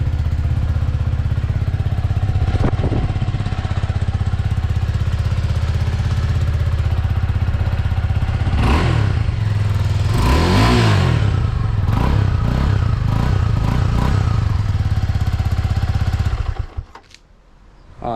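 A Suzuki Gixxer 250 SF fitted with an aftermarket silencer idles steadily and loudly close by after two months stored under a tarpaulin, with a few sharp throttle blips and clattering touches before the engine cuts off near the end.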